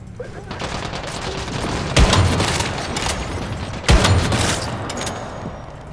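Gunfire in a video game sounds as a dense crackle of shots, with two heavy, booming reports standing out about two seconds apart.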